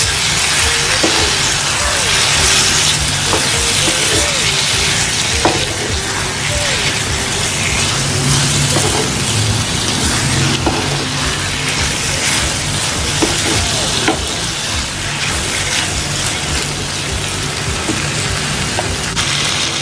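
Mutton liver frying in a tomato masala, sizzling steadily and loud throughout with light stirring scrapes, a dense crackling hiss close by and no voices.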